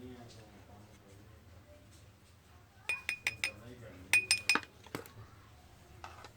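A teaspoon clinks against a bowl a handful of times in two quick bursts as besan is added for a homemade face pack, close and fairly light with quiet background hum.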